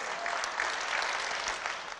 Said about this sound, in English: give a big round of applause for the Tasker team